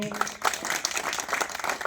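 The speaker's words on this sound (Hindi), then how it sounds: "एक जोरदार तालियों के साथ हार्दिक स्वागत, अभिनंदन, वंदन करना चाहते हैं" Audience at a Hindi-language political rally breaks into applause, a short, fairly faint burst of clapping with a few louder claps, while a voice continues speaking over it.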